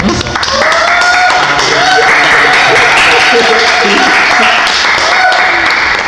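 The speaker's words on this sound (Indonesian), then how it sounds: "Kita tepuk tangan dulu Bang." Sustained applause from a gathered crowd, steady and dense throughout, with a voice briefly heard over it.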